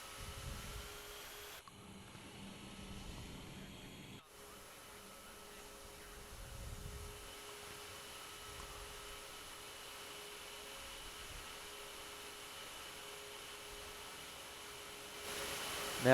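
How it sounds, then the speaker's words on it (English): Concorde jet engines in Microsoft Flight Simulator give a faint, continuous roar with a thin steady whine on top, held at low volume throughout and briefly cut out near the start. "I present to you the Concorde."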